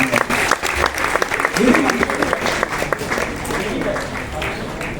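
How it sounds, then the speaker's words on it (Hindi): Audience applause at a poetry gathering, sustained loud clapping with scattered voices and cheers mixed in. "तो जरा एक बार तालियां बजा दीजिएगा दीदी के लिए"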